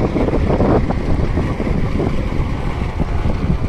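Cold wind gusting across open farm fields, a loud continuous buffeting roar that rumbles into the microphone throughout, with no voices.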